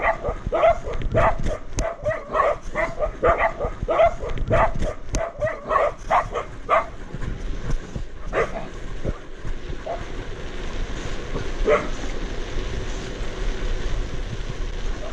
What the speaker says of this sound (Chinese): 后面的狗狗在追着我骑快一点点。